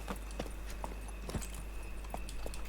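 In The Witcher 3, the horse Roach moves at a gallop, with faint rhythmic hoofbeats over a steady low game rumble.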